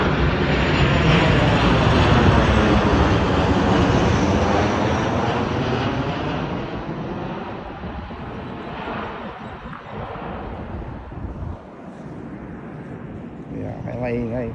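A large jumbo jet airliner roars overhead at a mountain campsite. It is loud and broadband at first, then slowly fades and rumbles away as it passes into the distance.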